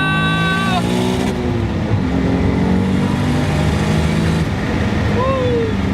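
Turbocharged VG30 engine in a Nissan 300ZX with upgraded turbos and long gearing pulls hard, a loud close rising drone with a gear change partway through, then revving climbs again, with a voice briefly over the engine.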